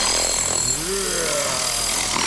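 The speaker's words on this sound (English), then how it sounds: "It's kind of like a straight nozzle, but it spins because it's got turbo." A pressure washer fitted with a spinning turbo nozzle sprays in a continuous loud hiss, steady and close throughout, with a faint voice briefly underneath.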